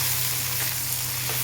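Onion, tomato and spice paste frying in oil with cumin seeds, a loud close sizzle with a steady hiss and faint stirring scrapes, no talk over it.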